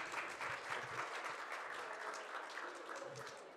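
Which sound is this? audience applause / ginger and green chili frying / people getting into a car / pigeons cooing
audience applause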